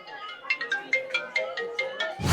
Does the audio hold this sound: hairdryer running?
no